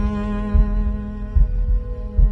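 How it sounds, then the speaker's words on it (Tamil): Slow, deep heartbeat thuds repeat about every 0.8 seconds, three pulses over a steady low hum in a dramatic film scene. "அவன் ஹார்ட் பீட் மட்டும்தான் கேட்கும்."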